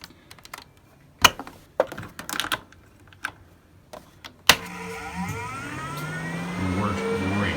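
A ventilation fan in a cargo trailer converted to a camper is switched on: several sharp clicks and knocks of handling, then a loud click as it starts and a rising whir that spins up and keeps building to a steady hum.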